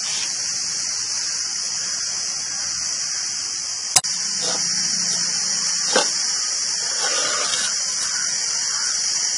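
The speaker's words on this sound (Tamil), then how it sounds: "தண்ணி நல்லா கொதிச்சிருச்சு" Water boils in a pot for village-style kuska biryani with a steady, close hissing rumble, broken by a sharp click and a faint knock partway through.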